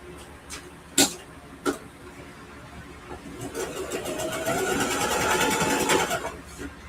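A home sewing machine stitching the fabric of a quilted ruffle backpack, starting after a few clicks and taps and then running in a steady, close, rising mechanical whir.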